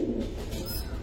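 Giribaz pankhi pigeons, koel-bear pankhi birds kept for sale, give a brief low, throaty coo up close, a soft rolling murmur with no speech.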